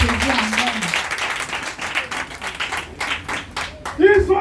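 A church congregation clapping loudly and continuously to acclaim Jesus, a dense close patter of hands with voices calling out over it.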